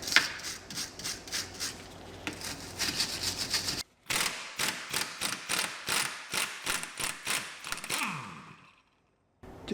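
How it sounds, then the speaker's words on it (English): Wire brush scrubbing corroded bolt threads while replacing the drive shaft on an Audi Q7, with repeated short back-and-forth scraping strokes in uneven bursts, close up, a brief pause, then more strokes before it trails off. "Grab my wire brush, it's going to clean out the threads"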